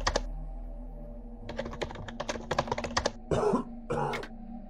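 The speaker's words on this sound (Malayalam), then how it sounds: "ആരാ ചുമക്കുന്നേ" Coughing and throat clearing come from a Minecraft horror map, two short bursts near the end that follow a run of close, rapid keyboard typing.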